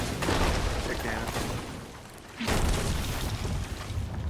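Ship cannon fire in an online pirate video game, booming blasts and rumbling bursts across the whole stretch, with a sharp hit near the middle, under energetic player talk.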